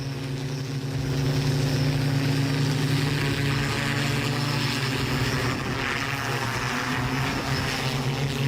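A Dubai police flying bike, or hoverbike, in flight: a steady, loud propeller-like drone with a strong low hum and airy buzz, sustained without a break.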